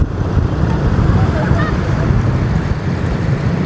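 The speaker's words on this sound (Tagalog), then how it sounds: "Ganda ng alon dito" Ocean waves wash steadily onto a beach in Quezon Province, a loud, continuous broadband surf roar with wind buffeting the microphone throughout and no speech.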